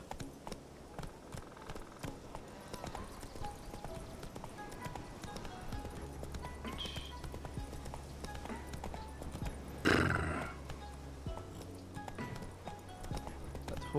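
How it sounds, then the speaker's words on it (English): Horse hooves clip-clopping steadily in The Witcher video game, with a brief neigh near the end over a low game soundtrack and faint ambient noise. "That horse making that noise"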